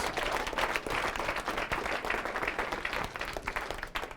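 An audience at a real estate program seminar breaks into a dense, sustained round of applause, many hands clapping steadily and loudly throughout.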